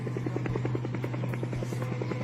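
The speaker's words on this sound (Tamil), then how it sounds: "சீலிங் ஃபேன் என்ன ட்ரோன் மாதிரி சுற்றிக்கிட்டு இருக்கு." Ceiling fan spinning with a drone-like whir at a college Teachers' Day function: a steady low hum with rapid rhythmic pulsing chops, fairly faint and continuous throughout.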